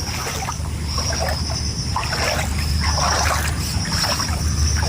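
Feet wading through deep flood water left by Cyclone Fengal, steady sloshing and splashing up close over a constant low background rumble, with no talking.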